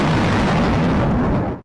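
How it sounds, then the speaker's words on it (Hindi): A massive volcanic eruption, Krakatoa in Indonesia in 1883, rendered as a loud, sustained, roaring rumble with continuous crackling bursts that fill the whole clip before cutting off abruptly at the end. "इस पृथ्वी पर सबसे तेज आवाज एक ज्वालामुखी के फटने का था, जो 27 अगस्त 1883 को इंडोनेशिया के क्राकाटोआ आइलैंड पर विस्फोट हुआ था"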